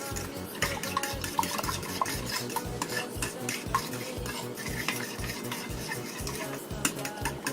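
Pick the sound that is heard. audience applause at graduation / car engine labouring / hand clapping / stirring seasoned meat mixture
stirring seasoned meat mixture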